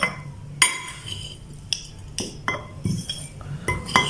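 Raw chicken pieces for a chicken pickle going into a glass jar, producing a close series of sharp, irregular clinks and knocks against the glass, with quieter shuffling between them.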